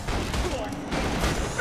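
Gunfire from the video game Borderlands 2, a dense fast burst of shots with booming impacts filling the whole moment, with people talking over it.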